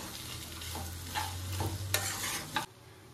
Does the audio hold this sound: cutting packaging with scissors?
no